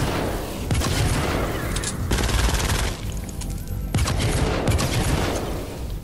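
Sustained pistol fire in the video game Fortnite Chapter 2 Season 6, loud rapid shots in several dense bursts separated by brief gaps, close and without talk.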